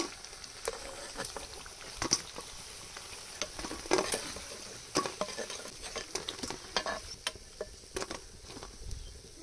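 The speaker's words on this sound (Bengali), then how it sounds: "গরম গরম পকোড়া ভাজা হচ্ছে" Small prawn pakoras fry in hot oil with a close, crackling sizzle full of sharp pops and spatters, while a utensil now and then stirs or scrapes the pan, with no talk.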